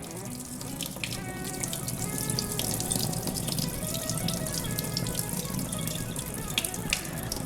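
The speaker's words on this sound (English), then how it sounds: "And I drain the water." Water drains from washed beans, pouring and splashing steadily in a continuous rushing trickle with faint clinks, fairly close and unbroken throughout.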